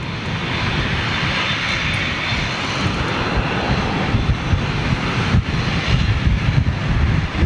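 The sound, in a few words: Airbus A350 aircraft jet engines, Manchester Airport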